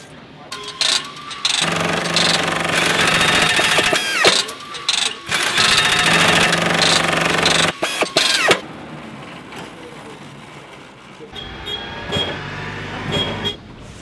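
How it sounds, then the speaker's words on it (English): Tools and machinery clank and clack continuously inside a combine harvester factory, a dense, loud industrial din of metallic knocks and mechanical whirring that eases slightly toward the end. "with the tools and machinery running, it's like this symphony of clanks and clacks"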